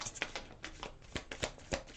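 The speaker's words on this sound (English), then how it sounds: "Just shuffling through this deck a few times." A tarot card deck being shuffled by hand, close and soft, with quick repeated riffling flicks and snaps in an uneven rhythm.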